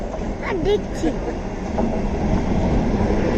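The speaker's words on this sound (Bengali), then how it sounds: "ট্রেন ঢুকে গেল" A passenger train pulls into a station with a loud rumble and clatter of rolling wagons, a few brief squeals, and voices faintly mixed in near the start.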